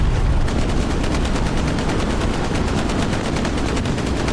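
Rapid gunfire with rocket blasts in a video game match, a dense, loud, continuous rattle of shots pounding for several seconds without pause.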